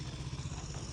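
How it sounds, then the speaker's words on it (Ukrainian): A motorcycle passing by outdoors, its low mid-pitched engine drone steady and moderately distant throughout, no voices over it. "Не бійся, то мотоцикл ходи."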